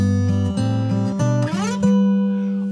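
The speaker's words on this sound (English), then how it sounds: "A little jam in D using these intervals of tenths." Guitar playing a short jam in D using intervals of tenths, a few plucked two-note shapes followed by a quick slide into a ringing, sustained final chord, close and clear, with no talk.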